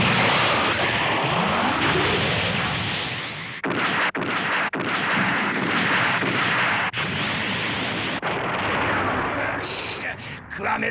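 Mega particle cannon blasts and gunfire in a Gundam anime space battle, dense roaring barrage with sharp bursts and booming hits, continuous and loud throughout.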